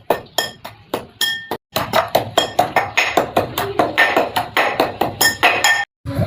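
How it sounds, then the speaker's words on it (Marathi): Rapid rhythmic pounding of carom seeds, cumin, garlic and green chili by hand, a close, loud run of sharp clinking strikes with two brief pauses. "ओवा, जिरी, लसूण, मिरची आपण याला सगळे वाटून घेऊया."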